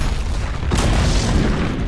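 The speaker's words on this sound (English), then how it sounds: "Dire's middle tower has fallen." Tower destroyed in Dota 2, a single deep boom that swells in about a second and is followed by a rumbling tail, loud and close with no speech.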